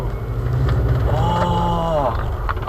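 STi-swapped Subaru Outback with its engine note droning steadily and rising in pitch as it accelerates, heard from inside the car under road and wind noise, with a voice speaking over it.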